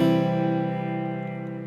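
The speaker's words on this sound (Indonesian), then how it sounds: "Efek reverb moonwalk bunyinya kayak gini." A single guitar note or chord from a Lava Me 3 smart guitar, washed in its built-in moonwalk reverb effect, decaying smoothly over a short moment with a lingering ambient tail.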